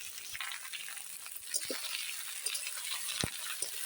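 Onion stalks (piyaj koli) fry in a pan while being stirred, a faint, steady sizzle broken by several soft scraping knocks from the spoon, close and without voices.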